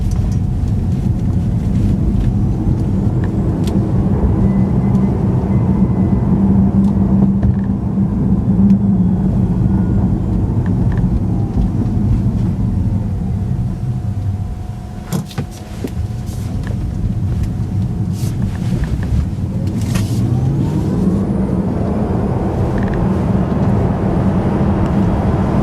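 A Tesla Model 3 Performance accelerating in track mode, a steady loud electric drivetrain whine with rising tones layered over heavy road and wind noise, the pitch sweeping up, easing briefly mid-run, then climbing again.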